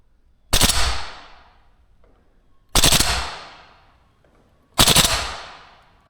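VFC AK105 gas blowback airsoft rifle firing full auto into black netting: three short, loud bursts spaced about two seconds apart, each a crisp rapid rattle with a brief ringing tail, quiet between.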